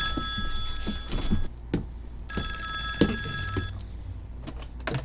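A telephone bell rings in two bursts, with a pause between them, over a quiet room with occasional thumps and faint background noise.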